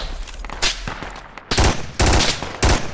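A machine gun emplacement in the military shooter Project Reality fires loud, close bursts of rapid rounds, several separate volleys in quick succession with brief pauses between them.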